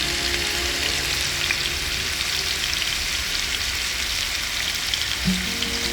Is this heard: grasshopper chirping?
no